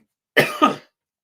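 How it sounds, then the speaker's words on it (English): A single heavy, harsh cough from a man, close and loud, bursting in two quick chesty pulses, with silence on either side. "That was heavy, that cough there"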